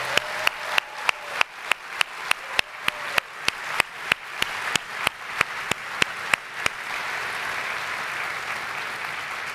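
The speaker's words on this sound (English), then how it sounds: "I would love to give all of our cast members around the world a big round of applause" An audience at a Disney parks presentation claps for cast members, starting with sharp, evenly spaced synchronized claps close by, then breaking into a dense, continuous wash of applause.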